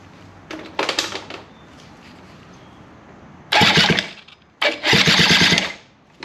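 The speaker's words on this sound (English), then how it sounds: "let's see See what this does when I crank it over." Rebuilt Suzuki DS90 two-stroke engine being cranked: a short burst of turning over, a pause, then two loud, close rapid chugging bursts, each about a second long, with no firing into a steady idle.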